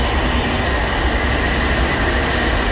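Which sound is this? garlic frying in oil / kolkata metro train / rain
kolkata metro train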